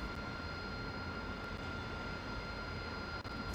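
AV-8B Harrier jet engine idling while taxiing and braking to a stop in the DCS World flight simulator, a steady, loud broadband whine and roar with a faint high tone running continuously.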